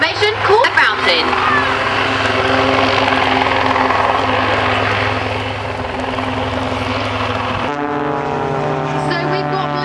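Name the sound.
display jets pulling up in a fountain formation at an air show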